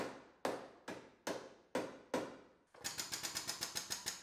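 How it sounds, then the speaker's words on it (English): Hammer blows on the damaged body of a GMC Yukon hit by a semi: six spaced, ringing metallic strikes, then a quicker run of about a dozen lighter taps, close and fairly quiet. "Hammering out all the kinks in it."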